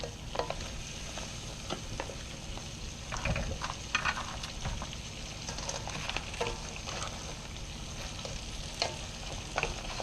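Crabs and mixed seafood sizzle and crackle in a wok turned up to full heat, a steady frying hiss broken by occasional stirring clatters, with no talking.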